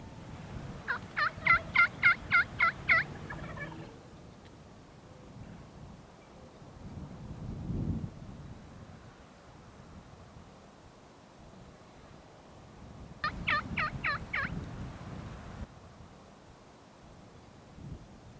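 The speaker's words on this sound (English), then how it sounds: "Now we're cooking one big tom and over 20 hens, and young jakes have come into the nearby corn feeder." A wild turkey tom gobbling among hens near a corn feeder in South Texas: two rapid rattling gobble bursts, one early and one late, fairly distant over soft wind noise.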